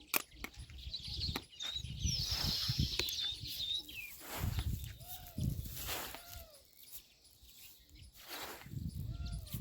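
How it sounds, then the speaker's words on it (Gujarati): Birds call from acacia trees in a quiet outdoor setting, with high chirps and short whistled swoops scattered among softer rustling and low background noise. "કેવો અવાજ આવે છે ત્યાંનો પક્ષીઓનો"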